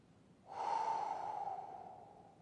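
One long, close exhale with a breathy rush that swells quickly and then tapers off slowly, alone in a quiet room during a mindfulness exercise.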